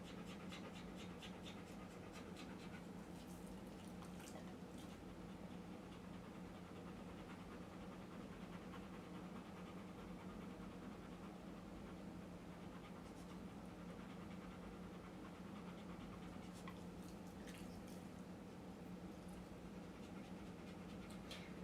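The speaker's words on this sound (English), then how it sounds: "Can you guys hear that panting" A dog pants steadily indoors throughout, a continuous rapid breathy rhythm close to the microphone over a low background hum.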